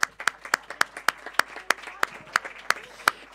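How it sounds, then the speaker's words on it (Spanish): A room full of people gives a round of applause at a World Radio Day event, with sharp rhythmic claps at a steady pace, fairly close and moderately loud, and no talk over it. "Lo primero de todo, dar las gracias y un fuerte aplauso a Javier de la Rosa"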